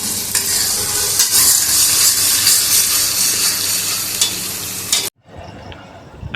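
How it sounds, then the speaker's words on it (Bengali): Chopped ginger, garlic and onion fry in oil while being stirred, a loud, close, crackling sizzle that runs steadily and then cuts off abruptly to near quiet. "এতে আদা আর রসুন কুচিটা দিয়েছি, দিয়ে একটু ভালো করে ভেজে নিচ্ছি।"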